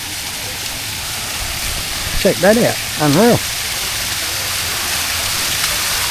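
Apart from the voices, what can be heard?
small man-made waterfall in a garden restaurant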